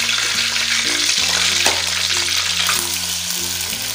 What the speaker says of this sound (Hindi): इसको फ्राई कर लेते हैं।